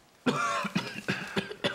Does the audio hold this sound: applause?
no